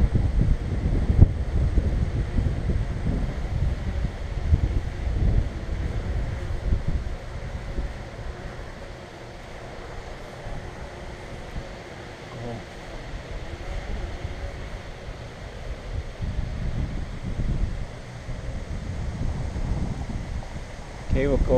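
Wind buffets the microphone during a DJI Mavic 2 Pro drone flight outdoors, producing low, uneven rumbling gusts that swell and ease throughout as someone talks intermittently.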